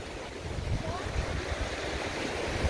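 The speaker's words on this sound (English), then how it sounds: "There's the ocean down here." Ocean surf washes against an iron shore in the Philippines, a continuous loud roar of waves mixed with wind buffeting the microphone.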